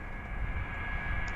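Steady airliner engine drone from an MD-80 in Microsoft Flight Simulator 2020, a constant low rumble with a thin high whine running throughout the brief moment, with no talking.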